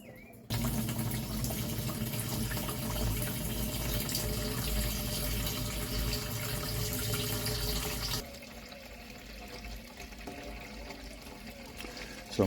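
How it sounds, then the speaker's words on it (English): Water gushes steadily into the bottom of an aquaponics tank for several seconds, then the flow softens to a quieter trickle before a final bump. "there we go, start to fill up the bottom of the tank."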